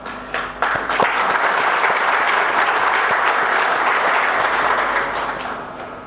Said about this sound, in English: very clearly evident from the claps that we got from the audience